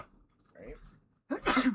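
A single short, sharp sneeze bursts out near the microphone after a quiet stretch of soft breathing and a brief spoken word.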